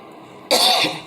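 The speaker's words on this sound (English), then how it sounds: "That's why I'm coughing" A single short, harsh cough from an adult bursts out abruptly and fades within half a second, close and loud against near silence.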